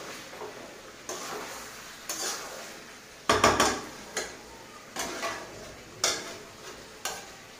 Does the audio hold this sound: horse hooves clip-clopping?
no